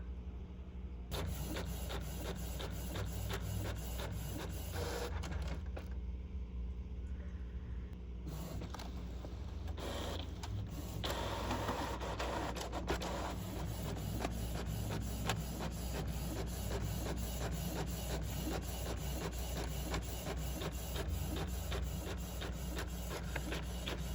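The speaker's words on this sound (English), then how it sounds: "try and print it out now, because I put it on the right side and then the left side. And then it's gonna be double-sided." An inkjet-style desktop printer runs a double-sided print job, a steady mechanical whir with rapid repeating clicks and paper-feed shuffles continuing at close range for the whole stretch, with no talking.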